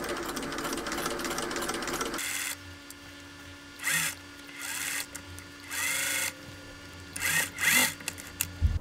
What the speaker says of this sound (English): I'm gonna start sewing from the center and sew toward the edge like this